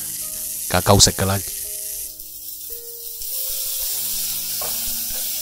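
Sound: bean sprouts stir-frying in a hot wok

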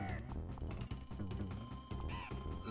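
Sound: purple owl boss bird cawing in Donkey Kong Country video game

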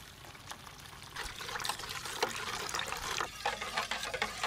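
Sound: hot water poured into Kuchi ice mix

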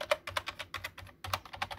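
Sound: typing F keys on Cooler Master Devastator 3 keyboard

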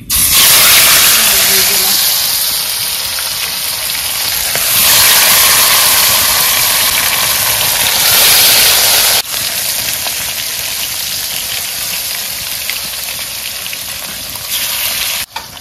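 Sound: cardamom frying in hot oil

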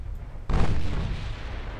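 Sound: naval guns firing, from video game Ultimate Admiral Dreadnoughts

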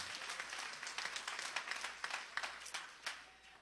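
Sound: church congregation hand clapping

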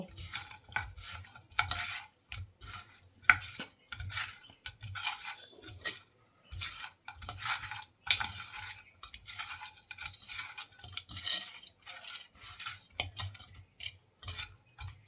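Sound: rubbing turmeric and salt into taki fish by hand

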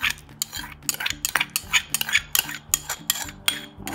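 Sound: stirring noodle salad with mayonnaise

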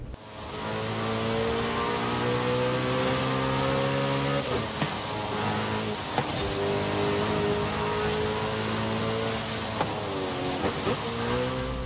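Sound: car engines in a racing video game set in Mexico

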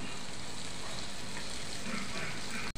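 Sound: tomatoes and cashew pieces frying in a pan

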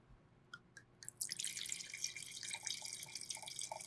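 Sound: wine being poured into a glass

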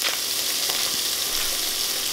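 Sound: hot Italian sausage meat frying in pan

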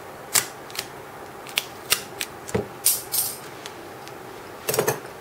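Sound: scissors cutting tape

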